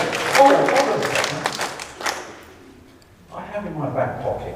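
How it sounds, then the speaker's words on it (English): A room full of people clapping for young performers, dense applause at first that fades out, followed by a lower murmur of voices and movement. "Give the young people a round of applause."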